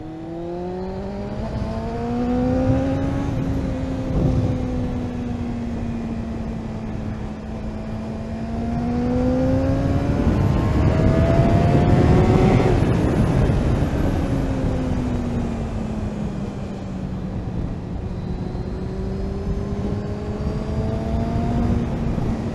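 A Kawasaki ZX6R Ninja J2 motorcycle rides through winter countryside near Abberton Reservoir, its engine droning steadily with pitch rising and falling through the gears, swelling louder midway under constant wind rush.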